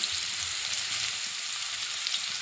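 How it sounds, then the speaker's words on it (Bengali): Chopped onion and garlic frying in oil in a wok, a steady hiss of sizzling with soft stirring beneath, close and continuous with no talk. "কড়াইতে তেল দিয়েছি। এখানে আপনারা গরম মশলা একটু মানে গোলমরিচ টরিচ দিতে পারেন। এবার পেঁয়াজ আর রসুন কুচি দিয়ে"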